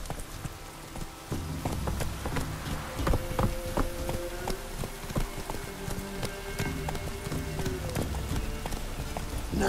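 Hoofbeats of a galloping horse in The Witcher 3 video game, a steady rapid clip-clop close by over a game music backdrop, with a brief voice line near the start.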